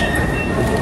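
A train rumbles steadily and loudly at Chatswood train station in Sydney, a brief continuous roar close by, with no voices.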